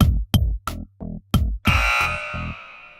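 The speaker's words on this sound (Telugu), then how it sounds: "సందీప్ వాళ్ళు బజర్ నొక్కారు" A game show buzzer on a Telugu television quiz sounds as a series of short, loud electronic bursts, followed by a longer sustained ringing blast that fades away.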